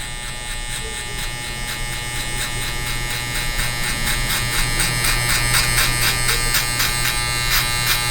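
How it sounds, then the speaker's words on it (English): Gamma Shorty hair clippers buzz steadily and close up while cutting hair for a mid fade buzz cut, a continuous electric hum with a slight rise in intensity toward the end and no talking. "These are the new Gamma Shorty clippers. I really like them. They cut through anything."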